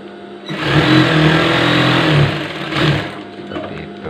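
Sewing machine running a plain seam on a gamis dress, a loud continuous motor whir that swells for a couple of seconds then eases with a brief second burst.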